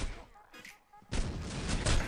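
Gunfire in a Critical Ops gun game match erupts as a sudden dense burst of shots halfway through a short moment, loud and sustained after a quieter start with faint game sounds.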